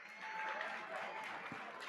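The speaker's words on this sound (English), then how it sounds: "let's give these young folks a round of applause." Applause for young goat showmanship participants at a county meat goat show, a steady, moderately faint wash of clapping from a small crowd that holds evenly through the moment.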